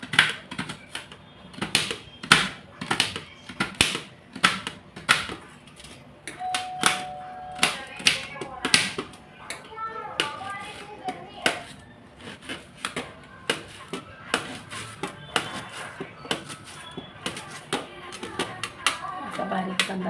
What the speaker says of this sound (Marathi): कांदा कापत आहे मी, असा बारीक बारीक कापून घ्यायचा.